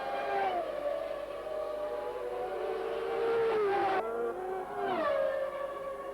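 Formula 1 race cars scream around the Interlagos circuit at the 1991 Brazilian Grand Prix, their engine notes rising and falling as they pass through traffic. The sound is loud and continuous.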